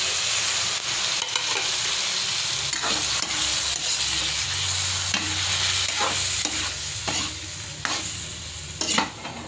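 Squid sizzling and frying in a pan with tomato, ginger and onion, a steady broadband hiss with repeated scraping stirs of a utensil throughout, close and moderately loud with no talking.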